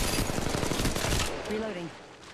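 Rapid automatic gunfire rattles in Apex Legends Mobile, a dense burst of close shots for over a second that then cuts off, followed by a brief synthetic voice cue.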